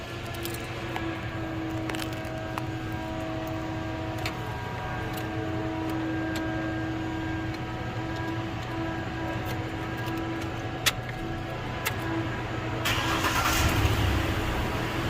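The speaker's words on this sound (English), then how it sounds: "Let's do a cold start for you." A 2011 Ford Ranger 4.0 4x4 with 99k miles runs through a cold start and settles into a steady, quiet idle with light ticking, growing a little louder and rougher near the end.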